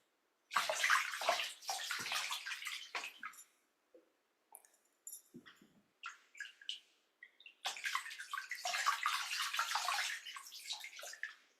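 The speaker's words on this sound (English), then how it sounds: "We'll keep the meditative mood as we rinse our feet off." Water splashes and sloshes in a bucket as feet are rinsed, in two busy bursts of trickling and swishing separated by a few seconds of quieter drips and small splashes, close and with no talking.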